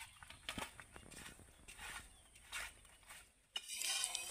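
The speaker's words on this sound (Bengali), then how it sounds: "এবার হাত দিয়ে ভালো করে মেখে নেব।" Boiled whole jackfruit gets worked by hand with turmeric, making soft, intermittent squelching and rubbing sounds at close range, ending in a brighter, louder rustle near the close.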